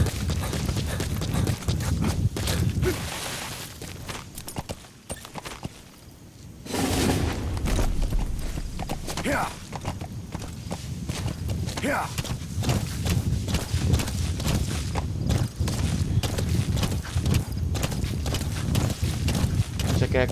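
A horse ridden through an Afghan village near Kabul in Metal Gear Solid V: The Phantom Pain, its hooves clip-clopping in a quick, continuous rhythm through dense game ambience, with occasional faint voices.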